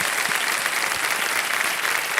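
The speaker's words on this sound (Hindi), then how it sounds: "तालियां बज जाए एक बार फिर इनके लिए।" Studio audience on a televised quiz show applauding for a contestant, a dense, continuous burst of clapping from many hands at moderate loudness, with no voices over it.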